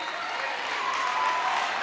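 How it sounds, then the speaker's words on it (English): Spectators at a girls' basketball game between Kingston and Warwick roar in a sustained, dense wash of cheering and applause that stays steady and loud throughout. "Crowd's getting loud."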